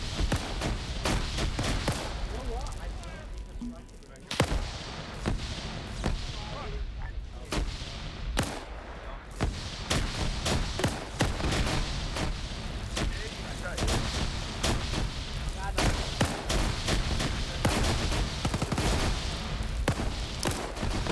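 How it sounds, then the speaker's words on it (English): Dense gunfire in an Arma video game set in a WW2 German scenario, with near and distant rifle and machine-gun shots cracking continuously over a low rumble and several heavy booms. "they're starting to take flanking fire here"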